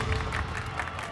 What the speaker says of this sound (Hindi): रुको, क्या ये सब लोग यहाँ ताली क्यों बजा रहे हैं?